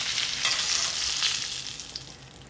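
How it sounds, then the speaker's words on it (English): A ballotine sears in a hot pan, giving a steady, fairly loud hiss and crackle that fades slightly toward the end. "I'm just gonna sear the other side of this one and then we're done with that one."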